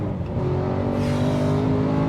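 449bhp BMW M3 saloon with a six-speed gearbox revving hard, a loud, close engine note with strong harmonic tones that climb steadily and stay sustained throughout.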